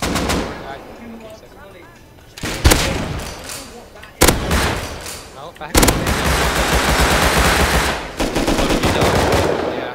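AK rifles fire in a first-person shooter video game: sharp bursts of automatic gunfire open with a few distinct shots, then settle into a dense, sustained rattle, loud and close.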